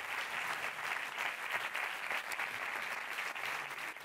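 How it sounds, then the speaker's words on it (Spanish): Sustained applause from the audience at a film festival closing gala, an even continuous patter of many hands clapping throughout, heard from mid-distance without speech. "Fuerte aplauso para Adrián Ordóñez."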